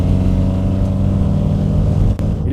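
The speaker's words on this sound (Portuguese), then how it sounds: "de longe, é o barulho da admissão que domina" A Hillman Avenger Tiger engine revs with intake noise dominating over the exhaust. It is a loud, close, steady droning growl, held for the whole stretch, with a brief dip near the end and no voices.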